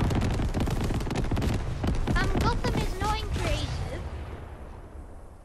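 Explosions from an airstrike in the video game Fortnite, a dense, loud rattle of rapid blasts that thins and fades over the last seconds, with voices heard among the noise.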